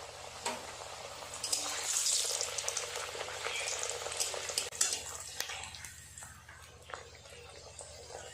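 Kachori frying in hot oil as they are dropped in one by one, a continuous bubbling sizzle with occasional clinks and stirring, steady and close throughout.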